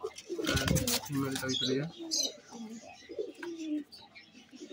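Fancy and high-flying pigeons in a home breeding setup coo in soft repeated throaty rolls, close by, mixed with clattering and handling noise while someone talks in Bengali.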